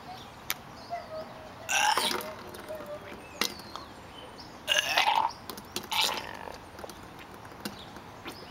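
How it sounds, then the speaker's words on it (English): A man burps loudly while downing a nasty homemade cocktail of milk, egg and Tapatio hot sauce; two or three harsh, wet belches come up close to the mic, with faint background noise between them. "I burped and fucking it came out."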